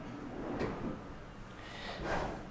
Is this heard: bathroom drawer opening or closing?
yes